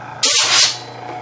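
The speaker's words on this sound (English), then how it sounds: "I'm just going to take this and spray off any dust." Compressed air sprayed in a single loud hissing burst to blow dust out of a power amplifier, lasting about half a second before tapering off over a low steady hum.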